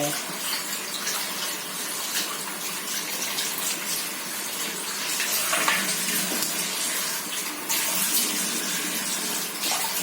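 Tap water gushing steadily over a Staresso Mirage SP300 espresso maker as leftover coffee grounds are rinsed off, a close, continuous splashing rush with slight changes as the maker is moved under the stream.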